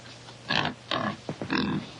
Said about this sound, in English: Nice pig.